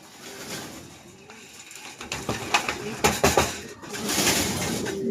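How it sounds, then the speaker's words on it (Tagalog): Racing pigeons arriving at their home loft, with soft cooing, flapping wings and clattering landings over a few seconds, mixed with someone speaking nearby. "awit dyan, nagsabay, dalawang kalapati ko"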